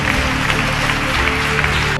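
A congregation claps in praise at a church service, the applause steady, dense and close for about two seconds before it stops abruptly.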